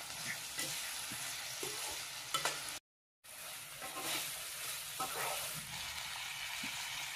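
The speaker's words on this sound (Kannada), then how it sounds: "ಆ ಕ್ಯಾಪ್ಸಿಕಮ್ ತಂದು ಹಾಕಿ ನೀವು ಫ್ರೈ ಮಾಡ್ಬೇಕಾಗತ್ರಿ" Chopped capsicum frying with tomato in a pan for capsicum rice, a soft steady sizzle with light stirring scrapes, fairly quiet and close, broken by a short silent gap.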